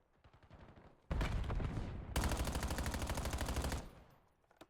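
Rapid automatic gunfire in a competitive tactical shooter match, fired through a wall: two sustained bursts of loud, evenly spaced shots, the second longer, with quieter shooting before and after.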